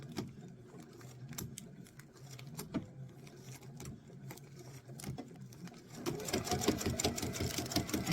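A sewing machine stitches slowly through thick layers of a travel pouch in a steady, close rhythmic whir of needle strokes that grows louder and busier toward the end, with no talking.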